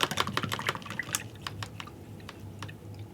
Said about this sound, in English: I'll rinse that brush.